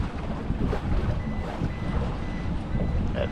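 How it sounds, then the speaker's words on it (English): A boat's depth meter alarm sounds on a windy day on the water, a repeated electronic beeping heard faintly over wind noise and engine rumble. "That alarm is my depth meter."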